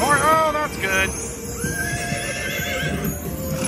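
A slot machine game plays a horse sound effect: a sharp neigh followed by a whinny and clip-clopping hooves, loud at first and then trailing off under game chimes.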